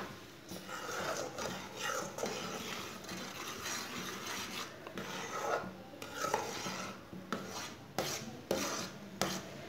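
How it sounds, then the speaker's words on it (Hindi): A spoon scrapes and stirs peach jam cooking in a pan over medium heat, a continuous rough rasping with irregular louder strokes and clinks. "इसे ऐसे ही चम्मच चलाते हुए पकाना"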